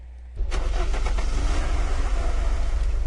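Car engine in the video game Unturned 2 starting up and settling into a loud, steady running drone, close and alone.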